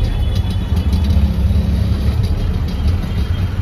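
A shared auto rickshaw's small engine chugs steadily with a low, close, rattling drone throughout, without any talk.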